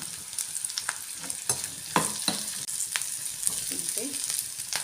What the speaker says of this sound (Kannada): ಈರುಳ್ಳಿ ಬೆಳ್ಳುಳ್ಳಿ ಹಾಕ್ತಾ ಇದ್ದೀನಿ